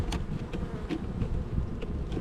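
Honey bees buzzing around an open hive, a close, continuous droning hum with individual bees passing near the ear, steady for a couple of seconds and without talking.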